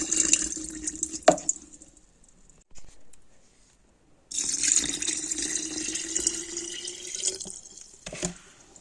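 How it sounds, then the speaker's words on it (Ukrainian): Water pours from a tap into a jar of chrysanthemum flowers in two bursts, with a short splash, then a pause, then a longer steady stream that ends with a few drips. "Заливаємо водою."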